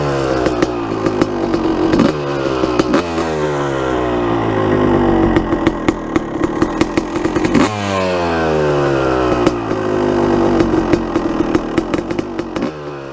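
A 12-year-old two-stroke dirt bike engine running close up, a loud buzzing rattle with repeated rises and falls in revs and sharp crackling pops, continuous with no talking.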